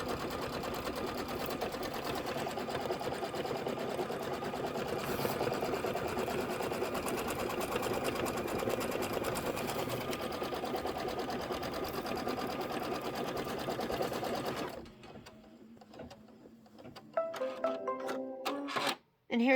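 Computerized embroidery machine running a tack-down pass and then quilting stitches on a Kimberbell bench pillow block. The steady rapid mechanical whir and clatter runs close and loud for about fifteen seconds, then stops, leaving quieter handling clicks.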